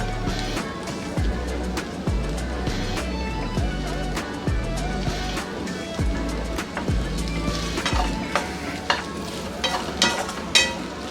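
Okra (bhindi) frying in oil in a pan, a steady close sizzle with bursts of crackling and occasional stirring scrapes throughout.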